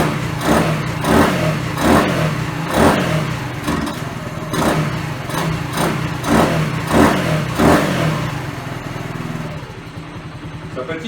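A Dax minibike engine runs on choke, chugging close and loud with a rough, pulsing rhythm that surges and dips about once a second over the whole stretch.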